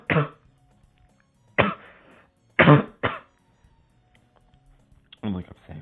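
A man with a bad cough gives several sharp, close coughs, two single bursts followed by a quick pair, then a rougher throat-clearing cough after a pause.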